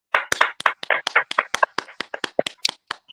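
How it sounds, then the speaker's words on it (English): A handful of sparse, irregular claps for a chat room member of the week on a morning radio show, close and distinct, each hit sharp and separate rather than a full crowd. "let's give the new chat room member of the week, D-Lo Mathis, a round of applause."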